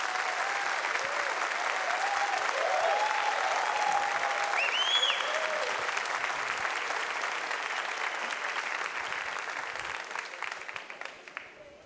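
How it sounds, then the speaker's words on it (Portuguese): A studio audience at a talk show breaks into sustained, dense applause welcoming a guest, loud and even before gradually thinning toward the end, with a faint voice underneath. "Queria que você recebesse o Francisco com um aplauso"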